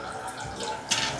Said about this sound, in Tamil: தண்ணியும் கொஞ்சம் போட்டுட்டு